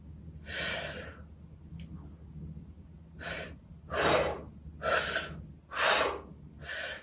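Forceful circular breathing during a shamanic ritual: after one early burst and a quiet pause, four or five loud, close breaths follow in a steady rhythm, with no talking.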